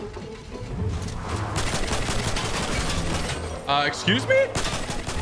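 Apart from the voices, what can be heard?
gunfire from players shooting in Fortnite video game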